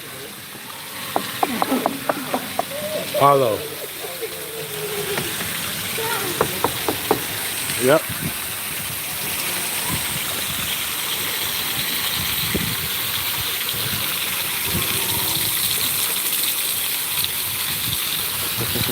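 Water pours from a pool fountain built into artificial rock in Pattaya, Thailand, a steady broad rushing wash that swells and holds through the second half, with people talking and moving close by over it.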